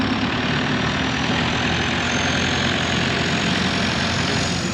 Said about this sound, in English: I think this thing's got a diesel in it.